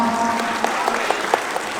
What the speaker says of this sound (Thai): ขอเสียงปรบมือกับทุกท่านบนเวทีเลยครับ